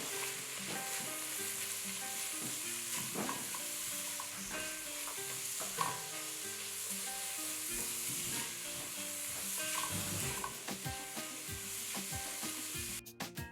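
A Jamaican rice and beans mixture cooks in a pot with a soft, steady sizzle and occasional stirring scrapes, moderately quiet, with faint tonal music in the background.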